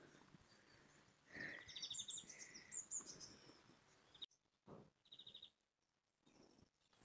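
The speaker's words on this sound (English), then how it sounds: "It's another owl." An owl calls at night in the Loire Valley, several short hooting and chirping notes standing out over a quiet background of insects, with gaps of near silence between the calls.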